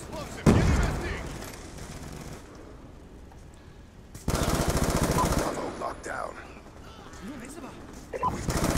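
Rapid automatic gunfire from online multiplayer Call of Duty Black Ops 2, loud bursts near and far with sharp onsets, mixed with game effects while players talk over it.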